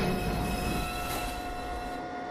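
A Manhattan-bound 2 train on the New York City subway rumbles and hums steadily close by, with a sustained tonal whine over the rolling noise that slowly fades a little toward the end.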